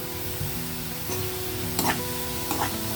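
Chilli powder sizzles in hot oil in a pan while cooking a drumstick and egg curry, a steady close frying hiss with a couple of brief scraping accents and no talking.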